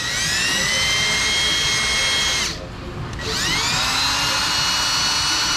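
A small flap wheel on a high-speed power tool grinds a battery terminal on a Ford E250 van, a loud whining screech that dips briefly mid-clip as pressure eases, then spins back up.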